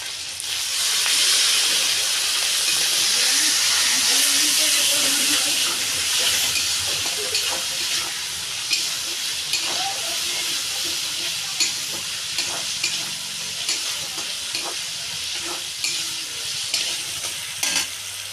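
Water splashed into a hot pan of spices with chili powder and turmeric hisses and sizzles loudly, settling into a steady frying crackle with light stirring scrapes throughout.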